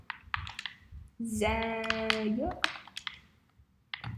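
Keystrokes on a keyboard while entering a team name into a console basketball game's design download search, a few scattered light clicks around a voice that talks in the near foreground, with a steady game tone in the middle.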